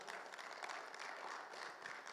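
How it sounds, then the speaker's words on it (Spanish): Steady, sustained applause from a church congregation at a Bible seminar, a continuous patter of many hands heard at a quiet, slightly distant level. "Le da un fuerte aplauso al Señor."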